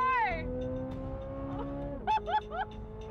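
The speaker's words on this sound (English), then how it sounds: "Oh, it revs so hard!" A powerful V8 engine in a Corvette C8 drones at high revs, its pitch sliding and then holding steady, with a few short excited shouts near the end.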